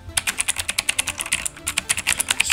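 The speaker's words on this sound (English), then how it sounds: "I like this keyboard. It's nice and clicky." Keys on a clicky Razer mechanical keyboard are typed in a rapid, even run of sharp clicks, close and alone, with a brief pause midway.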